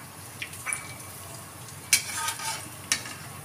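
Homemade pakoras fry quietly in oil as they are flipped in the pan, a soft low sizzle broken by a few brief scraping and splashing clicks from the turning.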